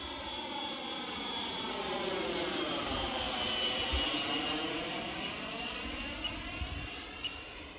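An HSD L39 model jet flies at a model flying club, its steady jet whine holding strong and continuous throughout, with the pitch sweeping and shifting as it passes, and no voices.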